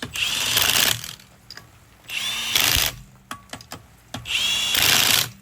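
Power tool (impact driver or drill) running down wheel lug nuts on a bicycle-style disc brake wheel install, three bursts of whirring with ratcheting clicks between, close and fairly loud, no talk.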